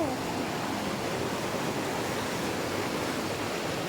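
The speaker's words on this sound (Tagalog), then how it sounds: "malakas ang agos" A strong river current swollen after overnight rain at a nature camp in Laguna rushes in a steady, loud, unbroken broadband roar that fills the whole stretch with no pauses.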